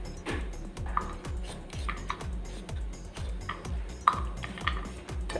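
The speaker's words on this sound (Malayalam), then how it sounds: "ഇതുപോലെ ബാക്കിയുള്ള ക്യാരറ്റും കൂടെ ഞാൻ അരിഞ്ഞെടുത്തിട്ട് വരാമേ" A kitchen knife slices carrots into thin pieces on a board in a quick, steady run of a dozen or more close, sharp taps, with a faint clink now and then and no talking.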